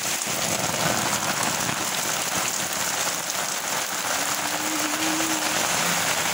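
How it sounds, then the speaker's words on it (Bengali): Heavy rain pours down in a town in Malda, a dense, loud, unbroken hiss of drops beating on surfaces, steady throughout with a faint low hum briefly audible underneath. "বৃষ্টি আর বৃষ্টি"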